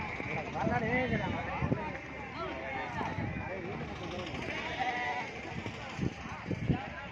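Sheep bleat repeatedly amid a flock at the Gudur livestock market while people talk over them outdoors, with faint hoof clatter in the background.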